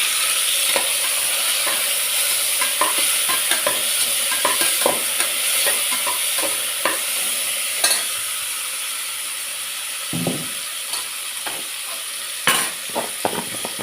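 Five small chopped tomatoes sizzle steadily in a pan of cooking onions for vegetable biryani, with close, repeated scraping of a spoon stirring through the mix over a constant hissing fry.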